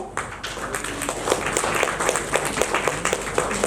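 An audience clapping at an Onam cultural programme as office-bearers are invited onto the stage, a dense, steady round of applause from many hands. It stays fairly loud and even throughout, with a few sharper claps standing out.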